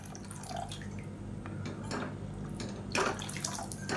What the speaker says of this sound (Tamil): தேவையான அளவுக்கு தண்ணி சேர்த்துக்கோங்க